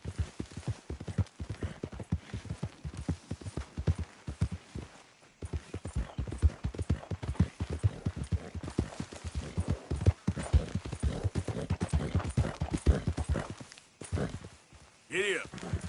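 Galloping horse hooves in Red Dead Redemption 2, rapid rhythmic clip-clop beats close up and fairly loud, with a short lull midway and a person talking over them.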